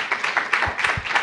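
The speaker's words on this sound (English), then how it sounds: "maybe we can give him a round of applause and a round of applause for all of the speakers today" Colloquium audience applause for the day's speakers, a short burst of many hands clapping with a few sharper individual claps standing out, moderately loud and close.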